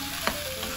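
A spoon stirs mung beans sautéing in a hot pan, producing a steady close sizzle with one brief scrape, and no talk.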